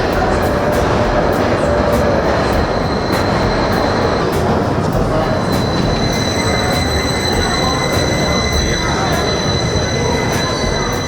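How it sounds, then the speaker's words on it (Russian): A train arrives at a station in Abkhazia, rumbling loudly and steadily, with high metallic wheel squeals ringing over the continuous roar of the cars rolling past close by. "А вот и поезд."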